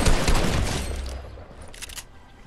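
Gunfire in the video game Fortnite: a dense, loud volley of shots opens the moment, then thins into a decaying rumble with a few fainter cracks near the end.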